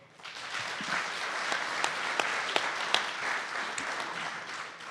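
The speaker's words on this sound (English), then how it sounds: "Clap your hands if we agree." An audience at a community listening session claps together, a steady round of hand clapping with a few sharp individual claps standing out, lasting several seconds.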